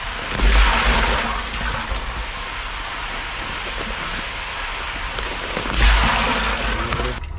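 Water falls steadily through holes punched in a thermocol tray during shrimp stocking, a continuous close splashing hiss that swells briefly near the start and again near the end, with no talking.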